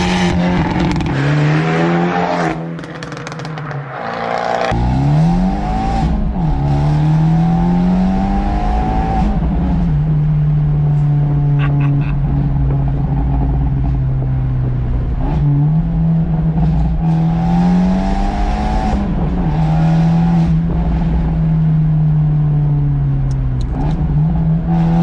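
A lowered Abarth 124 Spider on spacers drives with its engine revving through the gears, rising and falling in pitch repeatedly, loud and close from inside the car, with no talking.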